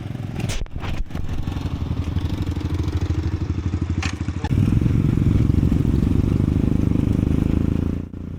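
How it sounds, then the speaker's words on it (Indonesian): Motorcycle ridden from a mountain base camp toward the forest gate on Mount Sorik Marapi in North Sumatra; a close, steady engine drone with rattling clatter, growing louder and rougher partway through as the bike pulls harder, with no talking. "perjalanan dari base camp menuju pintu rimba kami tempuh dengan naik motor"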